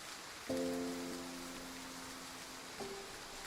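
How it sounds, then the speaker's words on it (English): Video-game rain falls steadily across a desert, an even hiss throughout, joined by a sustained chime-like tone that enters and later shifts pitch. "A few days later, it starts to rain in the desert."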